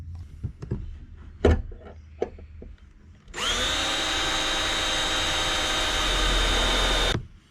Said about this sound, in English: So I'll drill these out